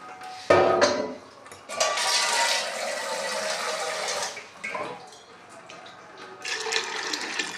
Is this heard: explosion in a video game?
no